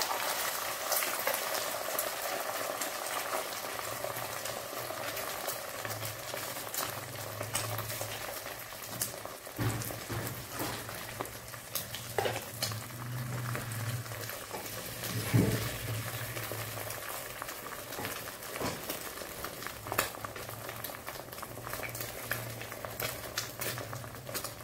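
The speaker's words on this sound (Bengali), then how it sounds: "এক টেবিল চামচ সরষের তেল দিলাম। অমলেটটা ভাজব," A two-egg omelette fries in mustard oil, giving a steady, close crackling sizzle with scattered pops over a low background hum for the whole stretch, with no talking.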